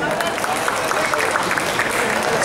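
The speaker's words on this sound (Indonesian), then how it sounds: "Tepuk tangan buat Hani." Audience applause for a young performer at a music show, steady dense clapping throughout, with a crowd murmur beneath it.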